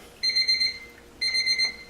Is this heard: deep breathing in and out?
no